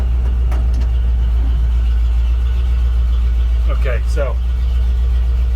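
A car engine hums steadily and loudly throughout as the vehicle is driven in second gear, with a person talking briefly over the low drone.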